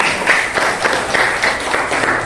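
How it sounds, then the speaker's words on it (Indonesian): Classroom applause from students, a brief stretch of steady, moderately loud clapping from a small group with no talk over it. "tepuk tangan buat Keisha."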